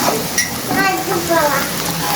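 Onions frying in oil in a home kitchen, a dense steady sizzle with stirring, close by, while someone talks over the cooking.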